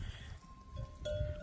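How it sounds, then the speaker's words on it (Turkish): A sheep on a farm in Tokat, Turkey gives a short, quiet bleat at the end, over low background rumble. "koçundan değiştiğimiz koyunlardan biri."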